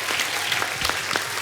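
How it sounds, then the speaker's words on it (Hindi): Loud studio audience applause on a comedy talk show, dense rapid clapping that fills the room continuously, close and bright with no gaps. "जोरदार तालियां हो जाएं उनकी मिसेज के लिए भी"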